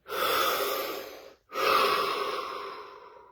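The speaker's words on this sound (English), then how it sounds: "Take a deep breath" Two long, audible breaths drawn close to the microphone, a slow deep inhale followed after a short pause by another extended airy breath that gradually fades.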